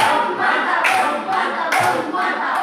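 A classroom of students claps for a classmate in dense, continuous applause with a few louder bursts, close and steady throughout, with faint voices mixed into the clapping.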